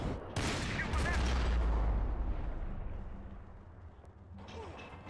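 A heavy blast and rolling gunfire erupt in Max Payne 3 on Hard difficulty, a loud burst that swells and then decays into a long rumbling tail, followed by a smaller hit near the end, with voices faintly underneath.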